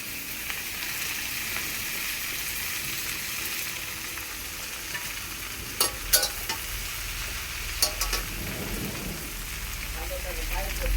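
Leafy greens hit a pan of fried onions and sizzle steadily, a continuous crackling hiss broken by a few sharp clatters of stirring.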